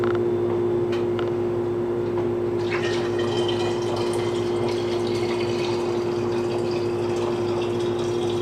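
Home brew hard cider pours through a funnel with a steady liquid gush and gurgle over a constant low pump-like hum, the flow thickening into a louder splashing fill partway through.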